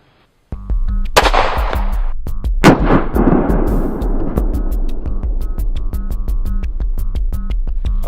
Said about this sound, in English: I'm going to load the magazine with one of the 9mm G2 rounds, and we're going to fire one shot into the vest